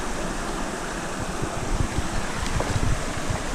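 Fast-flowing water of the Kern River rushing near the top of a fishing run, a dense steady roar of turbulent current with some wind buffeting on the microphone, close and continuous with no voices.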